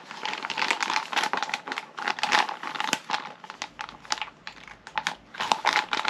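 A plastic parts bag from a Kyosho Fantom EP-4WD radio-controlled car kit crinkles and rustles as it is handled and opened: close, dense bursts of crackling plastic in an irregular rhythm, with no voices.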